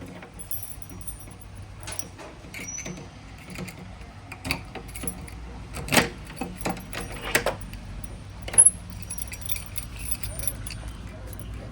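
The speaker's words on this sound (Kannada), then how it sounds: "ಇವಾಗ ನಾನು ಹೊಲಕ್ಕೆ ಹೋಗ್ಬೇಕು ಗಾಡಿ ಚಾವಿ ಒಳಗಡೆನೇ ಇದೆ" A set of vehicle keys jingles in short, faint bursts around the middle and again later, heard close by against a quiet rural home background.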